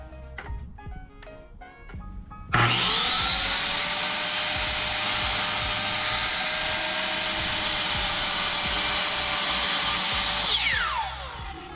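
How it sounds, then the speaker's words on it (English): A power saw spins up after a few quiet knocks and cuts through 1x4 and 2x2 wood boards with a loud, sustained whine for about eight seconds before winding down. "First I'm gonna measure and cut all my wood."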